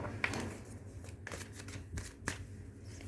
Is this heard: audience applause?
no